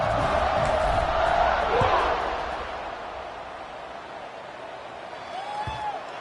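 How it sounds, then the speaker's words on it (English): Stadium crowd at a football game buzzing loudly as a steady roar, swelling in the first two seconds and then settling into a sustained hum, with a commentator talking over it. "this crowd is buzzing after that last score"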